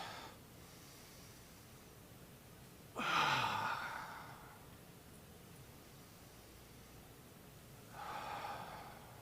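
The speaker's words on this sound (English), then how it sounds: "Take a few slow, deep breaths." Slow, deep breaths drawn in calm, quiet surroundings: one long audible inhale-exhale, then a softer second breath several seconds later, near and gentle.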